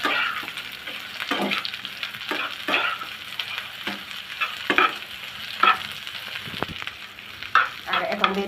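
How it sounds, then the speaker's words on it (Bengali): Cauliflower stalks frying in a pan for a mashed bhorta, a steady sizzle broken by repeated scraping stir strokes, close and moderately loud with no talking. "এখন একটু ভেজে নেব।"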